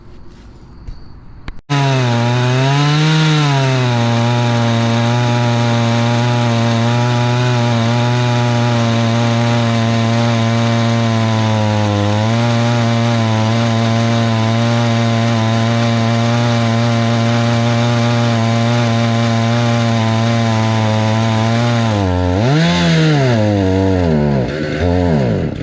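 A gas chainsaw mills rough lumber from a log, its engine running loud and close for about twenty seconds and dipping under load twice before revving up again near the end.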